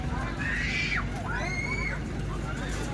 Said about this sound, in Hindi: बच्चे चिल्ला भी रहे हैं, सब झूल रहे हैं।